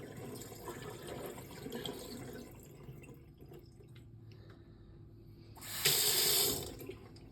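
Dirty water is poured out of a Shark HydroVac tank into a sink. A steady, soft trickle runs first, then a brief, louder gushing splash near the end, with no talking.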